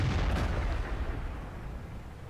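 A tank cannon fires in a tank battle video game, opening with a deep, loud boom that rolls into a long, fading rumble with no voices.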